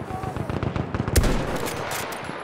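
Gunfire in a sniper video game: a quick string of sharp shots followed by a louder burst, fairly faint and mixed with game noise.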